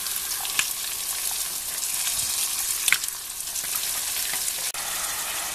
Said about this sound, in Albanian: vazhdojmë të hedhim midhjet